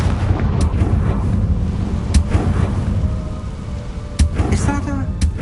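A Confringo fire spell exploding in the video game Hogwarts Legacy: several sharp blasts over a continuous rumbling game soundtrack, with some voice in the mix.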